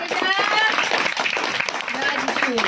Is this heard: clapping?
yes